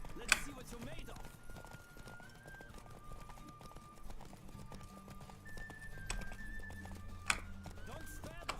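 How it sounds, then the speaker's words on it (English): Horse hooves clip-clop at a steady riding pace in The Witcher 3, a rhythmic patter under game music and occasional voices, with a few sharper hits standing out. "Don't spare the horse."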